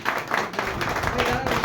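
Applause from an audience at a mobile-repair course graduation program, a brief burst of many hands clapping, mixed with voices.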